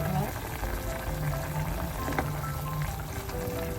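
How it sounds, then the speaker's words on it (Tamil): Cassava pieces boiling in water in a pot for a Jaffna-style curry, a steady bubbling simmer with a broad continuous wash, close and moderately loud, no voices. "இப்போ மரவள்ளி கிழங்கு தண்ணியெல்லாம் பார்த்து நல்லா அவிஞ்சிக்குது"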